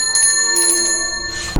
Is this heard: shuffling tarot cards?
no